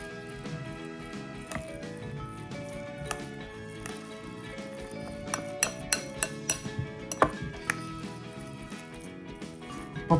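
A ricotta mixture with chili flakes and black pepper stirred in a bowl, soft squishy scraping with clinks of utensil on dish, steady and close, getting busier toward the end.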